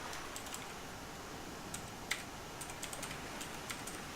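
Keyboard typing in a computer game session, labeling a teleport point on a map in Project Gorgon: a faint, irregular run of small key clicks over a steady background hiss, with no talking.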